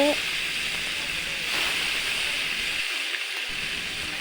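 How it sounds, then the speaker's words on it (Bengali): Fish pieces frying in hot oil in a wok, a steady broad hiss of sizzling that runs continuously at moderate level without pause. "এখন কড়াইতে তেল দিয়ে দিল তেলটা গরম হওয়ার পরে এখানে মাছ ভাজার জন্য মাছগুলো একটা একটা করে দিয়ে দিচ্ছে"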